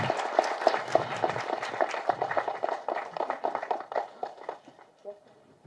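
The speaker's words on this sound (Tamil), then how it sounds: "ஒரு பெரிய கைத்தட்டல் கொடுத்துடலாம்." An audience at a Tamil Nadu film festival award function claps as Sivakumar is welcomed to the stage, a fairly close scattered burst of applause that thins out and fades near the end.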